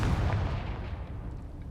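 The Confringo fire spell in Hogwarts Legacy goes off as a single booming blast, loud and close, with a low rumble that slowly fades away.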